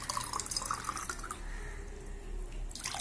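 Water is poured into glasses, a faint, steady trickling splash for a few seconds, heard quietly alone.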